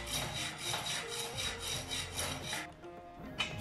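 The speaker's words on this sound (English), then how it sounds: "I had to use a saw to saw off the screw" Hand saw cutting through a stuck screw, a close rhythmic rasping of repeated back-and-forth strokes that stops near the end, no talk.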